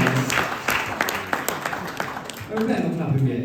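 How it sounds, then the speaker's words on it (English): Wedding guests at a best man speech break into applause, a burst of clapping that thins out and drifts under talk and murmurs from the room before voices take over. "let's all give him a warm round of applause"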